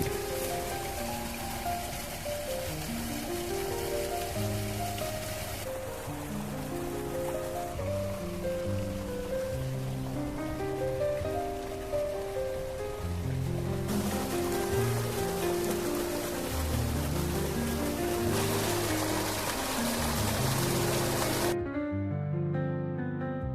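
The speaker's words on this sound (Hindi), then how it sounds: "पानी की कल की आवाज़ बहुत सुंदर लग रही थी।" Irrigation water gushes continuously from a tubewell into a maize field, a loud, steady splashing rush that runs without a break before ending abruptly near the close.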